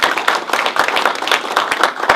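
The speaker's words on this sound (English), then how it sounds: "how about a round of applause for our great EDCG?" Brisk applause from a seated crowd at a retirement ceremony, dense overlapping claps at steady volume throughout, fairly close.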